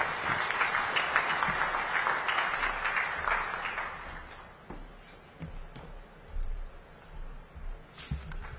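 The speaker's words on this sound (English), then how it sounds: "Another round of applause, ladies and gentlemen." Audience applause at a SADC summit meeting, a dense loud burst of clapping in a large hall that fades after a few seconds into scattered claps and room noise.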